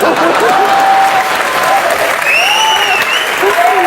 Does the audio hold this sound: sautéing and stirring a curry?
no